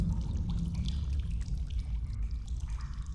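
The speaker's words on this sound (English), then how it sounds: "For one, I'm in the water." Splashing and sloshing of water as a character wades through it in the VR video game Husk, a continuous churning wash with low rumble, close and steady throughout.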